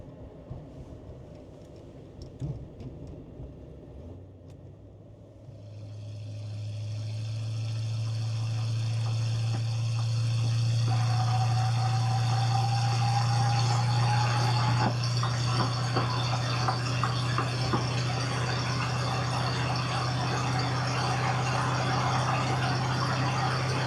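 A 1971 Lincoln Continental Mark III with a 460 V8 and 3.00 gears drives onto the highway, its engine hum rising and then settling into a steady loud drone with road and wind noise.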